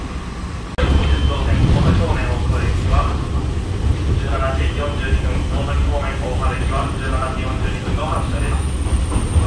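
A steady, loud rumble of a Kominato Railway local train running through hilly, wooded country, heard from inside, with rhythmic rattling and scraping textures over the low drone.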